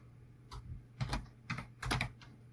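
Typing code on a computer keyboard: four or five short bursts of key clicks in quick succession, close and fairly clear, with no talking.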